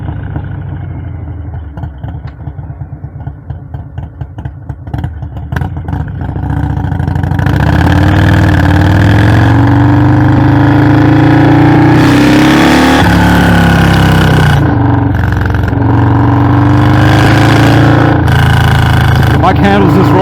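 Harley-Davidson FXLRS with a Milwaukee-Eight 117 engine underway on a road, a steady, loud engine drone that settles into a sustained roar with shifting pitch as the bike accelerates.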